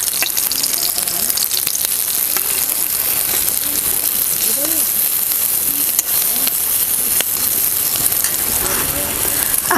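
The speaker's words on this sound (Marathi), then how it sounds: "मिरची भाजलेली आहे जरा याच्यामध्ये हळद खालीवर करून घेऊया" Roasted chillies and turmeric stirred in a frying pan while okra is prepared, giving a steady close sizzle with scraping and clinking of the spoon against the pan throughout.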